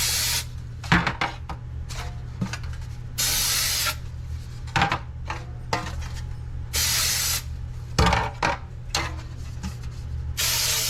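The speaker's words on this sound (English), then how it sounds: "Spray your pans like you normally would spray a regular pan." Cooking spray hisses onto cake pans in several short and longer bursts, with clattering and handling noises between sprays.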